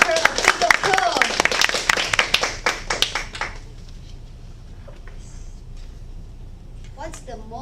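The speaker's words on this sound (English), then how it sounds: "Let's invite Polly and give her a big applause." Audience applause welcoming Polly at a Toastmasters club table topics session, a burst of fairly close hand clapping over the first three seconds, then quiet room tone with faint talk.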